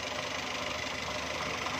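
Car engine idling steadily at about 900 RPM after a new idle speed control (ISC) valve was fitted to fix unstable revs, a continuous even mechanical hum with a faint ticking knock throughout, close and alone.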